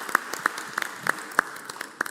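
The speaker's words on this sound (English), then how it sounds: "let's give Brenda a round of applause, and all of the court reporters" Scattered hand clapping from an audience in a state Senate chamber, a sparse, moderate round of applause with sharp individual claps at a steady pace, fairly close.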